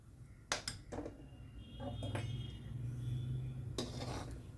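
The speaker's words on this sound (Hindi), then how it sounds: "अब इस कड़छी से सारा ये मक्खन निकल जाए, फिर मैं एक बड़ी कड़छी का इस्तेमाल करूँगी।" A metal ladle scrapes and knocks against a pot while scooping butter from cream for homemade desi ghee, giving a few sharp clinks over a steady low background hum.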